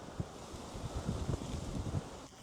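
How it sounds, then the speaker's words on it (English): Strong wind buffets the microphone outdoors in a steady, rumbling rush with gusty low thumps and no voices. "there's a strong wind too"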